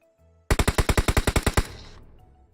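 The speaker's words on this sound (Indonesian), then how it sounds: "Sampai remuk gue tembak ah." A machine gun fires a rapid burst of about eleven loud, evenly spaced shots in a video game, ending in a brief fading tail.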